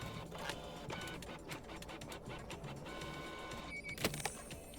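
Printer whirring and clicking in the espionage video game Deceive Inc, a busy mechanical chatter of rapid ticks and buzzing layered over steady game ambience, with a sharper burst near the end.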